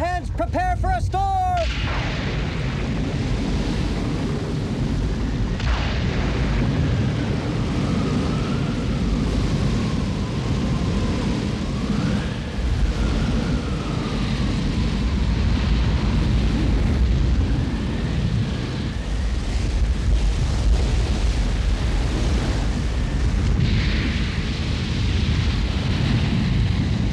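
Animated cartoon thunderstorm at sea: a loud, continuous roar of rumbling thunder and storm noise runs the full length without pause, with faint whistling tones drifting above it.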